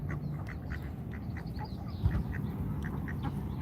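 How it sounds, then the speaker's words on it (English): Land ducks quack in bursts near Washington DC, close and continuous over a dense outdoor noise bed, with one brief thump partway through. "These land ducks are a little more standoffish."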